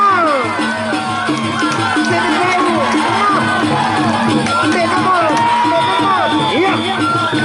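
A crowd at a traditional fighting match in Gegelang village, Lingsar, keeps up loud, continuous cheering, shouting and hubbub with no pause.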